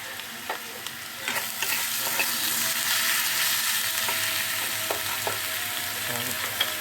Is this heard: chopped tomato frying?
yes